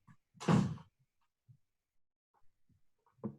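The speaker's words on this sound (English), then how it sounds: "Close the door." A door being closed indoors at home, one firm thud near the start, followed by faint small knocks and rustles in a quiet room.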